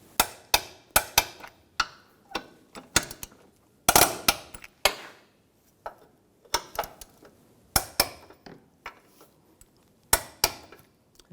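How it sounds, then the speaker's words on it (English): A wrench tightens AC condenser bolts on a 2011-2018 Volkswagen Jetta, giving sharp metallic clicks in quick bursts with short gaps between them. The clicks are close and crisp, with no talking. "I'm going to torque these bolts to 44 foot-pounds."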